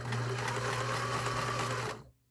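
A sewing machine stitches slowly toward the point of a dart in fabric, a close continuous humming whir with a steady needle rhythm that winds down and stops near the end.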